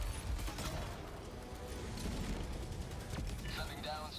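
Sentry turret in the video game Helldivers 2 firing a dense, continuous burst of rapid automatic gunfire amid noisy battle sounds, steady and loud for the whole stretch.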